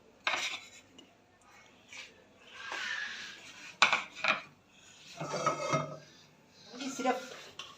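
A knife chops vermicelli (seviyan) into finer pieces, giving several short bursts of crisp scraping and clicking against a hard surface, separated by brief pauses.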